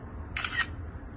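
A phone camera shutter clicks once in a plant identification app, a brief crisp double-click snap over a quiet background hum.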